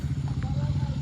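A line of motorcycles rolls in with a low, steady engine drone that holds for a brief moment, a voice faintly present.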